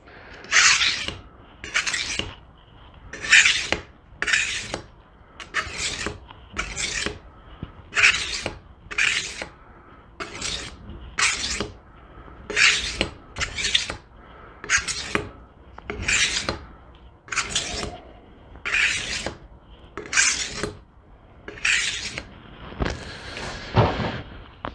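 Knife blade drawn across an 8000 grit finishing whetstone, a series of regular rasping strokes roughly one per second, close and crisp, each stroke a short scrape followed by a pause, with no voices.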